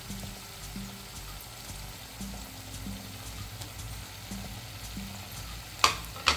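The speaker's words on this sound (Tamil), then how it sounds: "இப்போ பொரிச்சு வச்சுக்கிற ப்ரான்ஸ்லாம் இதில் ஆட் பண்ணிக்கலாம்." Fried prawns being stirred into spinach in a pan, a continuous low sizzle and frying hiss broken by soft stirring sounds, with two sharper scrapes near the end.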